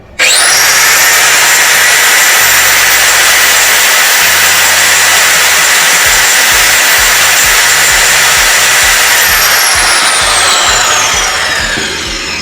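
A Yasuka YMC110A marble cutter, a 550-watt handheld tile saw, spins up abruptly and holds a loud, steady high-pitched whine at full speed for the whole stretch, then winds down slightly near the end with no talk over it.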